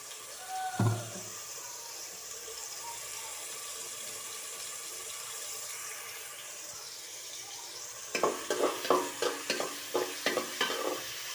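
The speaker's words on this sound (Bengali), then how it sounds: "পেঁয়াজ দেওয়া ছিল, তেল দিয়ে দিচ্ছি" Onions frying in oil in a pan give a low steady sizzle, broken near the end by a run of rhythmic scraping stirs that knock against the pan, with no voices.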